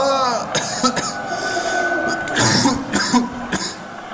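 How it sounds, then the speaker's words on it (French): A sick man coughs and clears his throat several times in short bursts while gaming, close and fairly loud, with a low rumble running underneath. "si vous entendez tousser, c'est normal, je suis malade"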